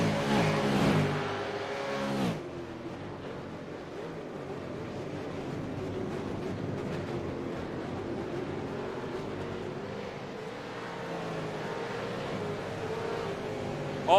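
V8 Supercars race cars battling wheel to wheel at Sebring, one loud car roaring past up close at the start, then a steady layered drone of engines further off along the track.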